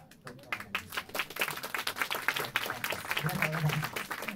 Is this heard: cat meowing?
no